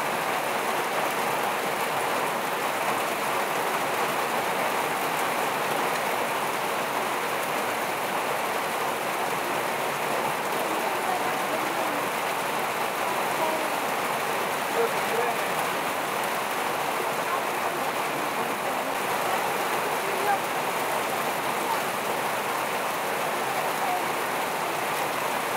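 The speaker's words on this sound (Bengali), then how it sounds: "ওই যে বৃষ্টি শুরু হয়ে গেছে, ভিজে যাব" Heavy rain pouring steadily outdoors, a dense, unbroken wash of drumming drops that holds at an even loudness throughout, with no voices heard.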